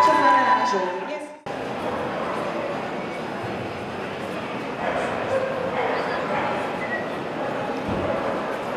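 Several dogs at a dog show bark and yip amid a busy indoor hall, with crowd noise and an announcer's voice heard at the start before the steady hubbub continues.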